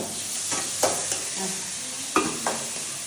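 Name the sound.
tomato and ginger garlic paste frying, stirred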